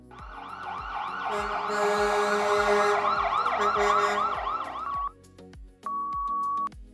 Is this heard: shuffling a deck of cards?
no